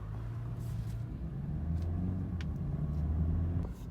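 A 2019 BMW 330i engine comes back on after an auto stop, a low, steady motor rumble heard from inside the car. The hum shifts and firms up partway through and keeps running, with no talking.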